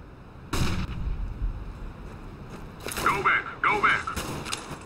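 In a competitive shooter video game, a flashbang grenade goes off with a sharp crack, followed by further bangs and ringing, whistling effects, over a low background of game noise.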